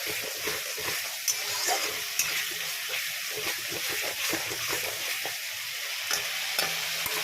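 Spice paste for paneer tikka stir-fried in a pan, a steady close sizzle with frequent scraping and stirring clicks throughout, no voices.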